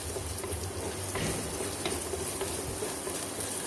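Onion and capsicum sauté and sizzle steadily in a hot pan, a continuous close frying hiss with occasional stirring scrapes, no voices.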